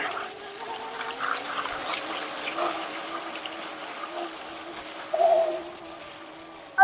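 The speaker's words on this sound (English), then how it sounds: "Back through the river again!" An electric bike rides through a deep river, giving a steady churning, gurgling rush of water throughout, close and continuous, with a sharper splash near the end.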